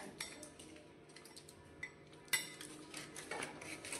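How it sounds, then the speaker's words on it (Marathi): Pancake batter with chocolate being mixed in a bowl, a utensil clinking and scraping steadily against the sides, close and moderately quiet, with a sharper clink partway through. "सो असं छान असं मिक्स करून घेऊया हे सगळं मिश्रण."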